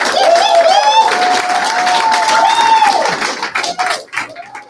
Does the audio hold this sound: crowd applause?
yes